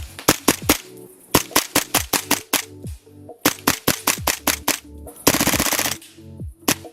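Airsoft Marui MP7 fitted with an Acetech Predator X tracer firing in quick bursts of sharp, muffled clacks, close and loud, then a brief hissing rush and a few more single shots.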